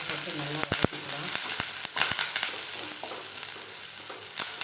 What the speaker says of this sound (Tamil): இதோட வெங்காயம், ஒரு பச்சை மிளகாய், ஒரே ஒரு பச்சை மிளகாய் இதையும் போட்டு நல்லா வதக்கிக்கலாம்.